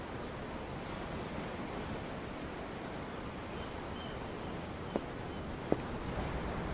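Ocean waves wash steadily beside a ship at sea in the Tales of Arise video game, a soft, continuous broadband surf with two faint sharp ticks near the end.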